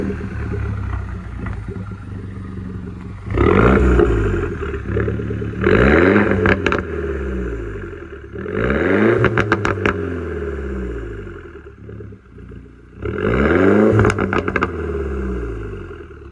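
Mini Cooper S R56 engine idling, then revved repeatedly in four strong bursts that rise and fall, loud and close, with a steady idle between each rev.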